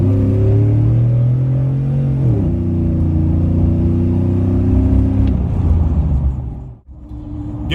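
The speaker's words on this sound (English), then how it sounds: "I'll kick it down for you guys so you can hear it again." A 2002 Chevrolet Silverado pickup fitted with Speed Engineering headers revs loudly up close, its deep rumbling exhaust climbing and then settling through several pitch shifts before dropping off abruptly near the end.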